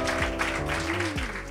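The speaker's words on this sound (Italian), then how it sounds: "Adesso c'è l'applauso vero," Live audience at a soul and groove music show clapping, a steady patter of many hands close by with a low tonal hum running underneath.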